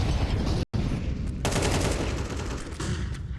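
Rapid gunfire in Counter-Strike 2 during a match, loud dense bursts of shots in quick succession with a brief cut near the start, continuing without pause to the end.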